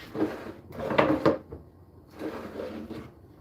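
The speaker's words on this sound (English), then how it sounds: "And my drawer has a bottom." A wooden drawer built in a home workshop slides open and shut, giving two distinct rumbling scrapes with a thud, then a quieter slide a moment later, close and clear with no talk.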